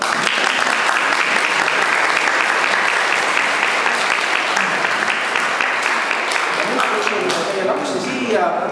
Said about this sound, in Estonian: Võib aplodeerida.